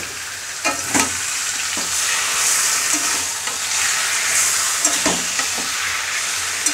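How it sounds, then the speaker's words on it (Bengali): Marinated mutton frying in a hot pan, a loud, continuous sizzle broken by repeated scraping strokes of a spatula as the meat is stirred. "এখন দিয়ে দেবো আমি ম্যারিনেট করে রাখা মাংস"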